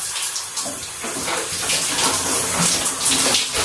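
Warm water running in a shower, a loud, steady splashing hiss with shifting spatters as the stream hits the body and floor, continuous with no talking.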